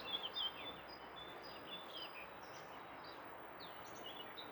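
Birds sing close by along a countryside path lined with broom, their faint high chirps scattered over a steady outdoor hiss, with no talking.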